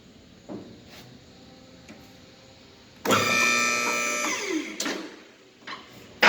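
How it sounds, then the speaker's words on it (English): A replacement lift motor whirs for about two seconds in a workshop, a fairly loud, steady electric hum between short clicks and clunks, with quieter room noise before and after. "That motor's really quiet. A lot quieter than the original."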